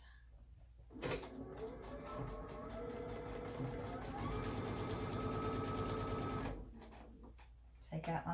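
A sewing machine stitches a half-inch seam on a fabric water bottle holder, running steadily for about five seconds under quiet room tone, with a person talking over the stitching.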